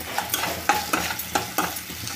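Pasta is stirred in a pan with a spoon, making quick scraping strokes at a steady, rhythmic pace. Each stroke carries a soft sizzle, close and moderately loud, with no voices.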